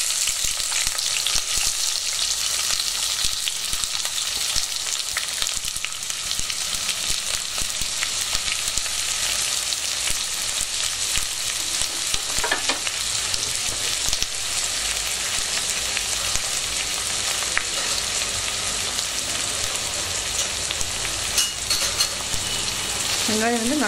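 Onions frying in oil for chicken biryani, a continuous close sizzle with intermittent scraping stirs over a long stretch, no talking.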